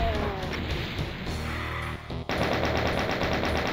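A chaingunner enemy in Doom 2 fires rapid bursts of machine-gun shots, a dense rattling stream with a brief gap before the fire resumes, set against steady game noise.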